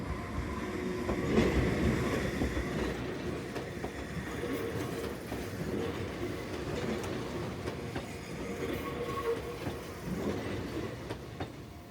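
A train rumbles steadily along the track at moderate distance, a continuous low roar with faint clattering, no voices, in Enoshima, Japan.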